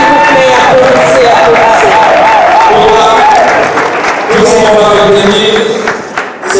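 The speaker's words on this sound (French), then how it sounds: "Applaudissez s'il vous plaît, applaudissez" Crowd applause at a Kwangolaise community celebration, a dense, steady wash of clapping and cheers with a singing or ululating voice riding above it, fading slightly near the end.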